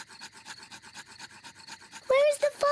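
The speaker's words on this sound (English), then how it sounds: "I'm going to make fire the old way, by simply rubbing these two sticks together." Rapid rhythmic rasping strokes of two sticks rubbed together to light a campfire in a children's cartoon repeat steadily, then a voice speaks briefly at the end.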